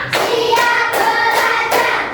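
Elementary school children in a classroom clap together in rhythm, loud unison claps repeated in even groups while a teacher's voice counts them along.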